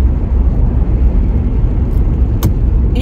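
Car driving slowly on a road, heard from inside as a steady, loud low rumble of engine and road noise throughout, with a faint brief click near the end.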